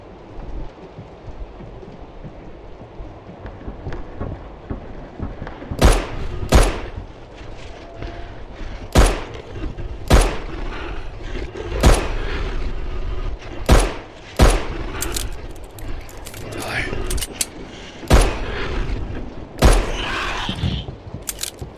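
Gunshots from the horror video game FOBIA crack out singly at uneven intervals over a quiet rumbling backdrop, with roughly a dozen sharp, loud reports in sequence.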